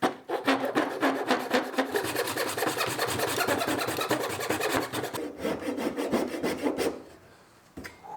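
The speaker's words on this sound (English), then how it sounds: "I'm still cutting my first pin board" A hand saw cuts a dovetail pin board in wood, giving steady, rapid rasping back-and-forth strokes close up, with a short pause near the end before a few more strokes.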